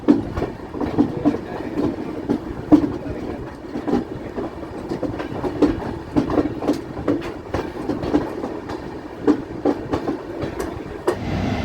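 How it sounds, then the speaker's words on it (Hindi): The North East Express rolls slowly along changed railway track in cold weather, a steady, close run of clickety-clack wheel beats and rattling carriage noise lasting throughout, with no voices. "और ट्रेन स्लो चल रही है, उसका रीज़न है कि रेलवे ट्रैक जो है चेंज हुआ है"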